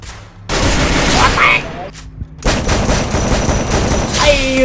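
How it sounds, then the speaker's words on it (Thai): Gunfire in the Free Fire mobile battle game: loud, dense bursts of shooting that stop briefly and then resume, heard close and filling the clip. "มันยิงมันยิงมันยิง"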